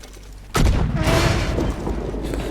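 A lit stick of dynamite blows up in a Red Dead Redemption 2 train robbery, landing as one sudden loud boom after a quiet lead-in, then a long rumbling roar that trails off with debris and scattered noise.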